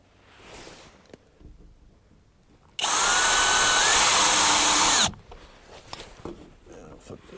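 A power drill drives screws while an outdoor weatherproof outlet box is mounted, one loud continuous whir of about two seconds standing out from a quiet room with faint handling noise before and after.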